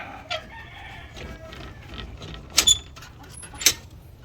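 Chickens cluck and a rooster gives short crowing calls amid low barnyard noise, with a couple of sharper bursts near the end.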